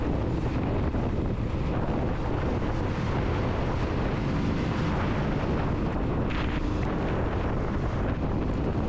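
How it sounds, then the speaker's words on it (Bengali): Strong wind rushes loudly and steadily across the microphone outdoors on the road from Jammu toward Kashmir, a constant broadband roar with no break. "অনেকক্ষণ পর একটু ঠান্ডা হাওয়া এলো বুকে।"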